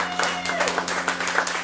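Audience applause at an Occitan heritage stage show in Béziers, brisk steady clapping from a modest crowd, near and continuous for under two seconds.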